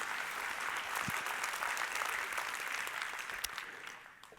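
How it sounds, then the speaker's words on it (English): An indoor audience at a regional economic briefing applauds steadily, a dense wash of clapping that swells and then slowly fades. "Yes, you can applaud that."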